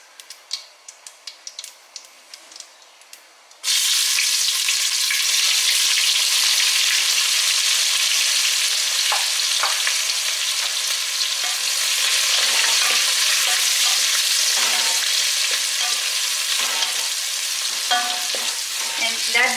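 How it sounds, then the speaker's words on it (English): Onions drop into hot oil for Tajik plov after a few quiet seconds of faint clinks, then a loud, steady sizzle and crackle of frying runs unbroken to the end. "And let the onions fry until they are gold color, nicely fried."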